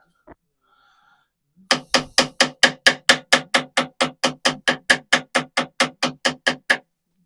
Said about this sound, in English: Rather than going at them hell for leather with the hammer.